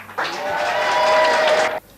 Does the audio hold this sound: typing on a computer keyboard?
no